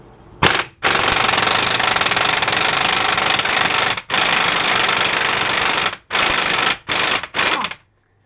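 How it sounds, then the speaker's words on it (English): An impact wrench with a 35 mm socket loosens the CV axle nut on a Chevy Impala, hammering in one long, loud rattling burst and then several shorter bursts with brief pauses between them. "Impact does make it a little easier."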